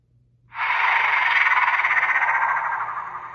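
A Bandai DX Shin Kamen Rider Typhoon transformation belt toy's release effect: a loud, buzzing electronic burst that starts abruptly and holds steady for about three seconds, with no voices.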